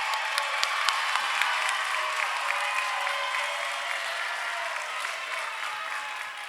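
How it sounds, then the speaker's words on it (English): Sustained audience applause at a PVA commencement ceremony, many hands clapping steadily in a large crowd for the graduates' parents, fairly loud and continuous with scattered cheers throughout. "So give a round of applause for the parents."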